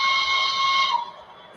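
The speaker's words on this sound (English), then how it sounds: "If I can play the whistle." Steam train whistle in a video game, one sustained shrill multi-tone blast held for about a second before fading out, fairly loud and alone.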